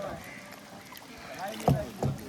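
A kayak paddled on the water off South Goa gives two soft close splashing strokes near the end over light wind noise, with people talking.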